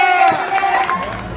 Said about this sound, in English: now it's the end of the show, and the crowd is going wild